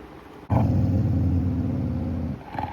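A household dog growls low and steady at close range for about two seconds after being roused by an open gate, the rumble fading out before a brief faint sound at the end.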